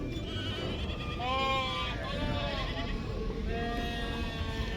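Sheep and rams bleat at a livestock market in Kyzylorda, several wavering calls overlapping at moderate distance over a noisy crowded background.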